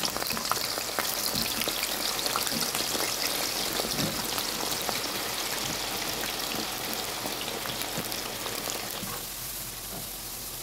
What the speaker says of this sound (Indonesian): Di sini saya goreng kentang dulu ya.